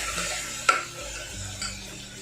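Onion cooking in a pan with ginger-garlic paste, a soft low sizzle broken by two sharp scraping stirs of a spoon against the pan, close and fairly quiet.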